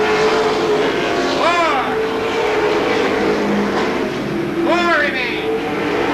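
Race cars lapping Seekonk Speedway in 1992 weekly short-track racing, engines roaring steadily as two cars sweep past in rising-and-falling passes, with a commentator speaking over the noise.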